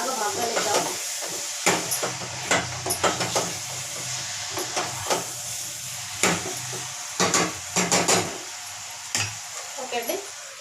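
Mutton with washed gongura leaves cooking in a pan, giving a steady close sizzle and hiss broken by repeated sharp scrapes and knocks of a stirring spoon against the pan, with no talk.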